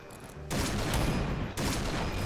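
Rapid gunfire in the shooter game Point Blank, two dense bursts of continuous shots, loud and close, with a brief pause between them.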